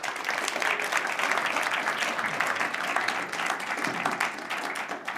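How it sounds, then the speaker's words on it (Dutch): An audience claps steadily throughout, a dense, sustained wash of applause with no pauses. "Graag een warm applaus"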